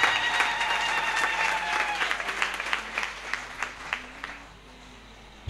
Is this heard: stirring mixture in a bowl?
no